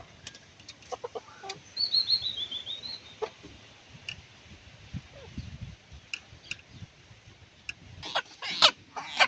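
Chickens cluck and murmur in scattered bursts with a few higher chirps, fairly close, amid soft background rustling.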